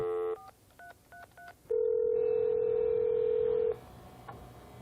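Telephone keypad tones beep in a quick series of dialed digits for an emergency call at an aluminum plant, followed by a long steady tone, then faint line noise.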